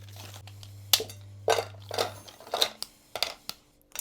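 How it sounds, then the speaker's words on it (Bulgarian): Pieces of 85% dark chocolate are snapped and dropped into a bowl, giving a series of sharp, irregular cracks and clicks close by, with brief pauses between breaks over a faint hum. "Взимаме една купа, в която ще разбъркаме всичко и начупваме шоколада."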